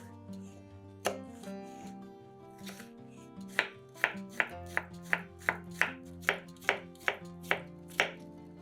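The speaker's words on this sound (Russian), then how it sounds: "Один большой огурец нарезаем сначала пластинками вдоль" A knife cuts a large cucumber into cubes on a board, a few slower strokes first and then a quick, evenly spaced run of crisp chops, close and clear with no voices.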